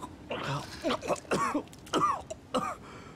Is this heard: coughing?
yes